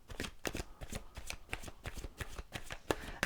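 Tarot cards are shuffled and drawn in a rapid string of crisp riffling snaps and slaps, close and fairly loud, with no talking over them.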